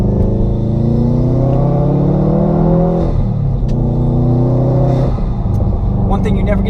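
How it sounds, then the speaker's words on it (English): A Subaru WRX engine rumbles steadily and loudly close by, with revs rising and falling in several swells and no pauses. "One thing you never get tired of is that Subaru Rumble."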